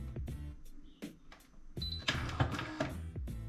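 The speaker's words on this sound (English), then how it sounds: "I'm gonna switch on the machine" Philips 2200 Series coffee machine switching on and running after a leak repair, with intermittent clicks and pump whirring that builds into a louder, steady mechanical hum close by.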